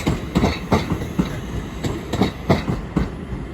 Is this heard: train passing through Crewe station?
yes